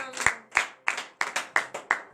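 A congregation claps in acclamation during a morning prayer service in Benin: seven sharp, evenly spaced claps about a third of a second apart, close and distinct in a quiet room.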